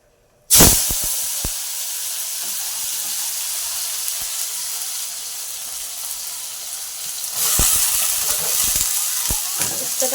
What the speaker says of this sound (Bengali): এখন বসিয়ে দেবো উচ্ছে ভাজা